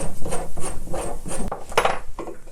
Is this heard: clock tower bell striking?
no